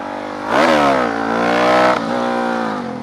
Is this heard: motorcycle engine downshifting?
yes